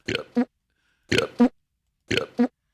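Three separate burps of the same shape, each a rough double croak, coming at evenly spaced intervals with silence between them, loud and close.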